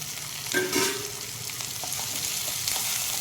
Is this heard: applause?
no